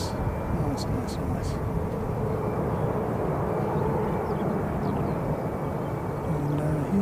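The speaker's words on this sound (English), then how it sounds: "we have a Jetstar pushing back" Jetstar airliner pushing back at an airport, a steady broad engine roar heard from a distance, continuous and even throughout with no talk.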